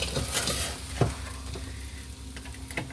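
Home fries sizzle in a frying pan on the stove for a breakfast dish, a close, steady crackle with a few stirring scrapes and no talk.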